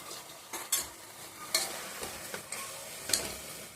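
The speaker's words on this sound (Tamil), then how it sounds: "கறி கொஞ்சம் வதங்கி வச்சு முட்டைகோஸ் போட்டுக்கலாம்" Cooked meat and cabbage fry in a pan for a cabbage meat gravy, a soft steady sizzle broken by several sharp scraping stirs of a spoon against the pan, heard up close with no talking.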